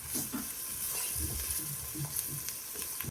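Ginger paste sizzles and fries in hot oil in a pan at home, a steady close hiss with occasional soft stirring scrapes and no voices.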